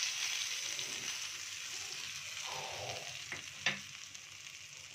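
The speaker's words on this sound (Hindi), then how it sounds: "गैस को मैं बंद कर दूंगी, इसको तड़के को मैं लगा दूंगी कढ़ी के ऊपर।" Hot tempering with Kashmiri red chili powder poured over besan kadhi, giving a steady close sizzle and frying hiss, with a couple of short clinks of the pan near the end, no talk.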